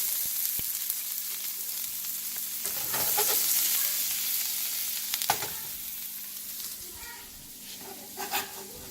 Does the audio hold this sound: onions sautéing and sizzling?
yes